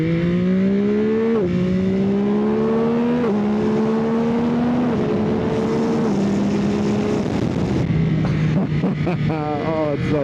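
A Yamaha R9 motorcycle ridden on the road, engine loud and close, climbing through gears with rising pitch and distinct shift drops, then easing off near the end, with steady wind rush throughout.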